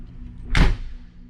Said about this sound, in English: It means I get to close this awesome door again.